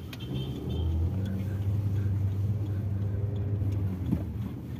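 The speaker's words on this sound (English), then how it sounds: "Let's drive the vehicle into first gear and off we go." A 2023 Maruti Suzuki Brezza pulls away in first gear, heard from inside the cabin as a soft, steady low engine hum that builds slightly, fairly quiet, with no speech.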